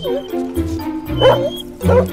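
Several sharp dog barks and yips in quick bursts, close by, mixed with excited human voices.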